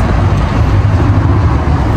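Loud, close road traffic at a bus stop, a broad continuous roar of passing vehicles with heavy low rumble and no voices.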